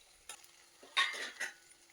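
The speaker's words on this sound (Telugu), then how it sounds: "ఇలా ఎర్రగా వచ్చినట్టు ఇలా ఫ్రై చేసుకోవాలి" Shrimp and ridge gourd fry in oil with a brief spatula stir and a short hiss of sizzling, a couple of quick scrapes close by, then quiet.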